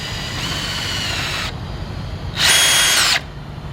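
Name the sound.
drill driving screws into wood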